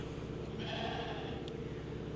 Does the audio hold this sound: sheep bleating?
yes